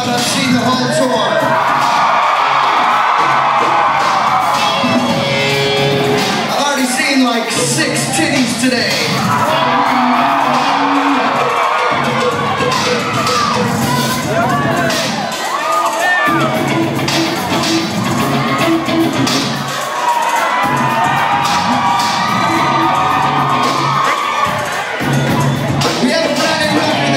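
A live concert crowd at a show at Portland's Roseland Theatre cheers, whoops and yells in loud, swelling waves that fill the hall, with brief dips between surges.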